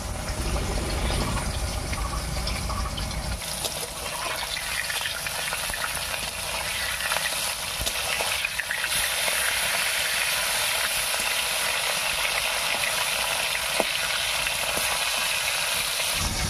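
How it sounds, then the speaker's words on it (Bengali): Rohu fish pieces frying in plenty of hot oil, a loud, dense, continuous sizzle and crackle close up that holds steady throughout with no talk. "মাছটা আস্তে আস্তে ভালো করে ভাজা হতে থাক"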